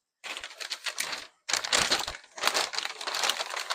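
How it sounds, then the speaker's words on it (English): Crinkly packing paper from a Lionel prewar train haul being handled and flattened out, loud crackling bursts close by, a short pause, then more sustained crumpling and rustling. "Sorry about all the crinkly paper noise"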